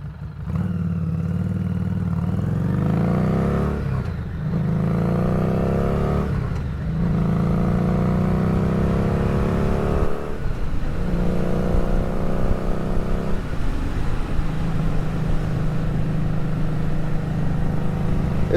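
A Street 500 motorcycle with a six-speed transmission rides along, its mid-pitched engine droning steadily, rising through revs and dropping briefly at several gear changes, heard close from the rider's position.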